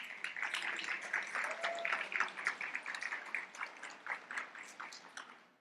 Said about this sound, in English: Please give those mentors a round of applause.